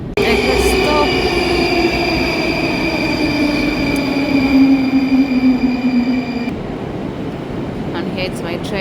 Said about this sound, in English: And here's my train coming.